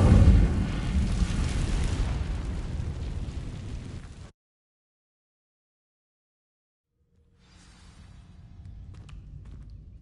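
An Incendio fire spell cast in a video game bursts out as a loud, roaring blast of flame for about four seconds, then cuts to silence before a fainter crackling rumble rises again.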